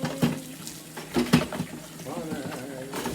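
A kitchen tap runs steadily into a sink while dishes are washed, with clinks and splashes rising above the flow and a voice speaking over it.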